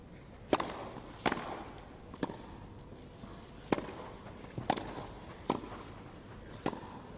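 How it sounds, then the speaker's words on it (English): Sharp racket-on-ball strikes from a tennis match between Roger Federer and Fabio Fognini on a grass court, about six crisp, isolated hits at irregular intervals over a soft crowd-ambience background. "Grass court volley, just angling it away"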